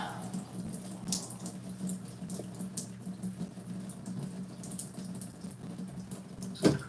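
A tap runs steadily into a sink during hair rinsing after box dye and conditioner, a continuous close splashing hiss with small irregular spatters and a brief louder splash near the end.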